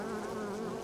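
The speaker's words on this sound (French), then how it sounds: "les abeilles attaquent sur les routes" Bees buzzing in the city-building video game Timberborn, a steady, faint insect drone that continues without a break, with no speech over it.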